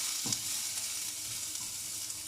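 Onion sizzling in a frying pan alongside an egg while a spatula stirs it, a steady close hiss of frying with a few faint scrape bumps and no talk.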